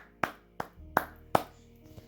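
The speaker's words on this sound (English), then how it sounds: "Let's clap it up for that." Four sharp, separate hand claps land at an even, unhurried pace, fairly quiet and close, with a faint tap trailing after them.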